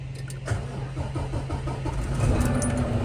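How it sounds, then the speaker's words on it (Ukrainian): A semi truck engine cranks with a rapid rhythmic churning, then catches and rumbles into a steady, louder idle, close by. "Зараз ми заводимо трак."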